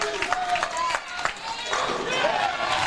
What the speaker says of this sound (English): You start to hear the crowd get into it as well.